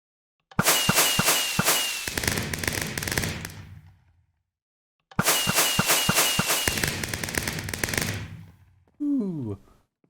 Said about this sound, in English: I made my way back just in time to have a nice fireworks display